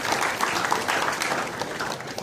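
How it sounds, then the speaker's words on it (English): An audience of university students applauds at an engineering exam awareness session, a brief, steady burst of many hands clapping at a moderate level, with no talking over it. "A round of applause, please."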